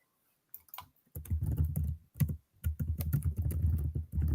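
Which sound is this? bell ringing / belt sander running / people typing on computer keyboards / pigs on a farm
people typing on computer keyboards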